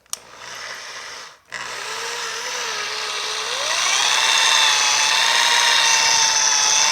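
A power polisher fitted with a waffle pad buffs the paint on a 1950 Chevy five-window truck cab, starting slow with a steady motor whine that briefly cuts out, then rises in pitch and loudness as it runs on alone.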